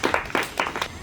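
Children clapping at an Independence Day (15 August) school event, a handful of separate, fairly close claps in a loose uneven rhythm.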